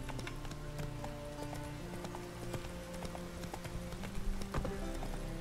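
Horse hooves clip-clop at a steady trot in The Witcher video game, a continuous, fairly faint rhythmic patter under a low game soundscape.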